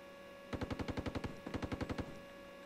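Two rapid bursts of tank machine gun fire in the Steel Beasts Pro simulator, an M1A2 SEP tank's .50 caliber gun, each burst about ten sharp evenly spaced shots over a steady engine hum, with a brief pause between bursts.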